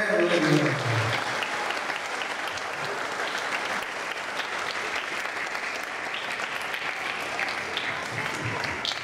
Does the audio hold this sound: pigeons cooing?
no